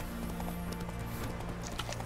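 Horse hooves clip-clop in a steady rhythm in the video game The Witcher 3: Wild Hunt, over a dense, constant background hum, moderately loud and continuous.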